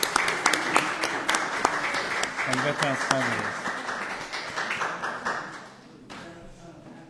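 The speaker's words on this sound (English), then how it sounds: "let's give the big round of applause to the veterans" Church congregation applauding veterans at a Sunday service, a clapping burst with sharp individual claps that thins out toward the end, while a speaker talks over it.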